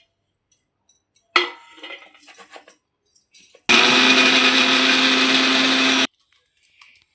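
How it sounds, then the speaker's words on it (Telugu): A kitchen mixer grinder whirs loudly for about two seconds in a small jar, grinding ginger into paste for ginger rasam, preceded by clinks and taps of the jar being handled. "ఇలా మిక్సీ జార్లోని చిన్న మిక్సీ జార్లోని వేసుకొని గ్రైండ్ చేసుకోండి"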